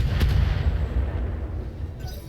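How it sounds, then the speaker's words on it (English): Mechs in a video game fire an artillery barrage: a heavy booming shot with a sharp crack at the start, followed by a deep rumbling roar that slowly fades, loud and with no talk. "Artillery barrage."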